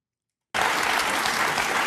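A studio audience breaks into sudden loud applause for Steve Bannon, the clapping starting abruptly after a brief silence and holding steady and dense, with no talk over it.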